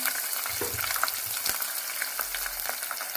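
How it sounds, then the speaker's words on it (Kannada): Dried curry leaves and green chilli frying in a pan make a soft, steady sizzle, broken by a few light clatters and stirring sounds. "ಒಣಗಿದ ಕರಿಬೇವು ಹಾಕ್ತಾ ಇದ್ದೀನಿ."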